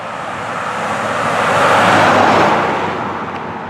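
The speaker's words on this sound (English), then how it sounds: "we're going to have a little traffic noise here" A steady wash of traffic noise swells and fades as a vehicle passes, with no voices over it.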